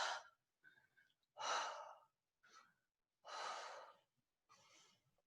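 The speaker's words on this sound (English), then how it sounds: "deep breaths." During a yoga backbend, a person takes deep breaths, a series of audible inhales and heavier sighing exhales with short silent gaps between them, close and intimate, with no speech.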